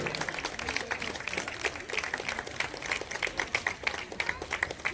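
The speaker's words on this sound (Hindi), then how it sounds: "तालियां बजती रहे" Audience clapping at an award ceremony marking a community foundation day, a steady, moderate patter of many hands with scattered sharper claps throughout.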